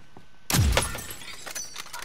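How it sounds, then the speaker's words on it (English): Glass shatters in a loud, sudden crash in a shooter video game, followed by scattered tinkling shards over a couple of seconds, with no talk. "Breaking glass."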